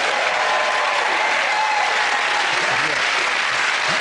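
Studio audience of a British comedy panel show applauding, a dense, steady wash of clapping that stays loud and even throughout.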